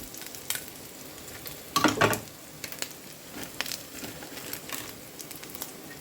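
An egg with red chilli powder sizzles in a pan, a soft steady fry broken by a louder burst of stirring and scraping near the middle.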